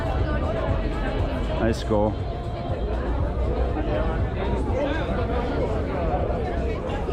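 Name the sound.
crowd chatter on a Moscow street at night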